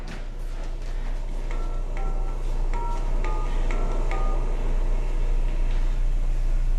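A telephone dials a call, with a run of DTMF keypad tones in two-note pairs, then a ringback, heard over a steady hum and noise floor with no talking.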